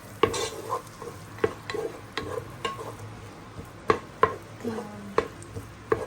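Onions and garlic are sautéed in a generous amount of butter in a pan, with a low sizzle under repeated sharp taps and scrapes of a utensil stirring at an irregular pace.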